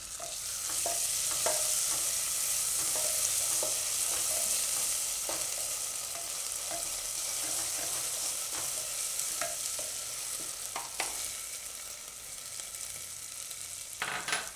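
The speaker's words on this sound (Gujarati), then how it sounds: "આ લીલી હળદર લઈએ એટલે તેલમાં જ નાખવાની, એટલે કાચો ટેસ્ટ હળદરનો ન આવે. થોડીક વાર તેલમાં ફેરવીને એમાં આપણે આદુ મરચાં ને લસણ," Green turmeric, ginger, green chili and garlic frying in oil, a continuous close sizzle with scattered stirring clicks and scrapes, and no talk.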